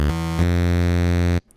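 Deep bass synth patch built in Native Instruments Massive, pitched down about an octave: a steady, buzzy sustained tone full of harmonics, retriggered once early on, holding loud for over a second before cutting off abruptly.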